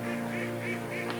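Alabio ducks quacking in a short run of rhythmic nasal calls, four or five quacks evenly spaced over a steady background hum.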